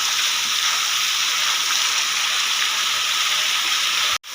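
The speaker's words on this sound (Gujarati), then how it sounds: "એવો વરસાદ છે ને પવન એટલો છે ધબાટી." Heavy rain driven by strong wind in a Gujarati town, a dense, loud, unbroken roar of rainfall that fills the scene and cuts off abruptly at the end.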